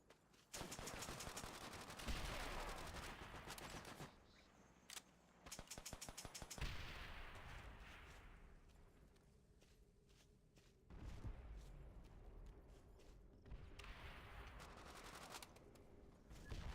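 Rapid bursts of gunfire from an unsilenced gun in the VRChat video game, loud and close, coming in dense automatic volleys separated by short pauses.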